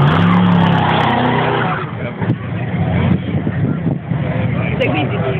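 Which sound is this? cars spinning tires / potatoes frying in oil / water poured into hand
cars spinning tires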